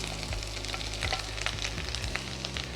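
Chopped garlic and ginger fry in two tablespoons of hot sunflower oil, a loud, continuous close sizzle with light stirring scrapes and no talking.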